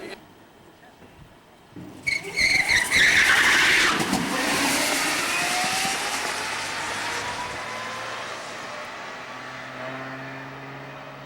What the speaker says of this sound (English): John Wayland running a 72 Datsun 1200 sedan